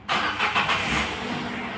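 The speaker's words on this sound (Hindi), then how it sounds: "अब मैं करता हूँ गाड़ी को स्टार्ट।" A car with about 58,000 km on it cranks and starts, a loud broadband engine burst that settles into a steady idle rumble, close by with no talk.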